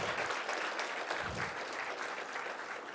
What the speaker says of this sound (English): And a big round of applause for him